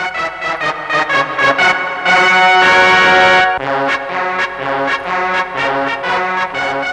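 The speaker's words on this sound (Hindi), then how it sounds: "इससे पहले कि मेरा मालिक भोंपू बजाए।" A loud horn blows in sustained tonal blasts, strongly harmonic and brassy, repeating in a rhythmic series of pulses with one long continuous blare in the middle, clear and close with no talk.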